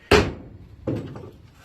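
A large screwdriver handle is used as a hammer to tap a pin into a 4x4 universal joint, giving two solid metallic knocks, the first louder and the second about three-quarters of a second later.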